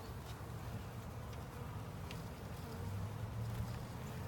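A 3-pound package of honey bees buzzes in a steady, low drone close by during installation into a hive, a dense humming swarm with faint clicks and rustles underneath.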